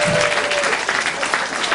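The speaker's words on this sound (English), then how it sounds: "So big round of applause for Tom, please everyone." An audience at an evening magic show event claps in a dense burst of applause that is loud and close and lasts throughout.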